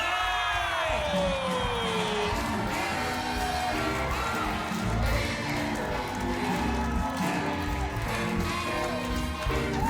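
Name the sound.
audience cheering and applauding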